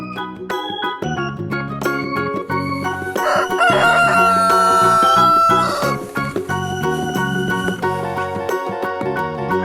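A rooster crows loudly several times over a busy musical backing, the calls rising and falling close up with no talking.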